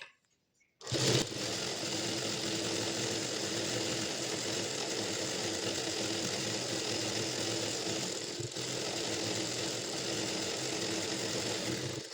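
An electric sewing machine stitches a patiala pant, starting after a brief silence into a loud, continuous motorized whir with rapid needle clatter, running close and steady with a short dip near the end.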